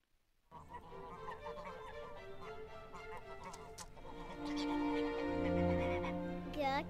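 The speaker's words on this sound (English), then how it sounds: "The goose." Goose honks sound in a children's alphabet phonics song over classical music, with several calls building louder toward the end and a voice present.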